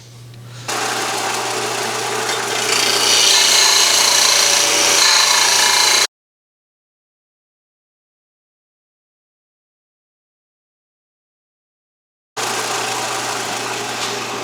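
A power tool grinds and cuts steel off a Chinese-made turbo manifold for an LS-swapped Foxbody, running loud and steady for about six seconds, cutting out to silence, then resuming near the end.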